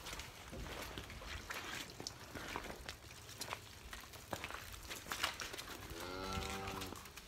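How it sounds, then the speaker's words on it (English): Holstein feeder steers and Angus heifers in a farm pen, with one clear moo rising near the end over a steady outdoor background. "What we have here is 16 Holstein feeder steers and 2 young"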